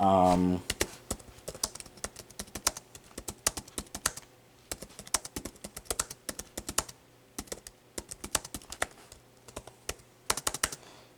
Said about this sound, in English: the keyboard makes a nice little click sound, you know, nice clicks